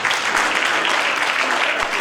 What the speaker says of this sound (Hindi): मैं चाहूंगा एक बार जोरदार तालियां बजाएं आप असित।